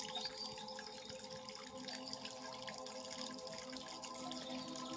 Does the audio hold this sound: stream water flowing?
yes